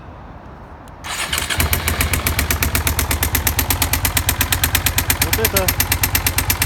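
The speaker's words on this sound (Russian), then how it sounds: "самое что ни на есть стук коленвала Suzuki SV400" A Suzuki SV400 motorcycle engine with crankshaft knock cranks and fires, then settles into a rough idle with a loud, rapid, regular knocking pulse; someone speaks briefly at the start.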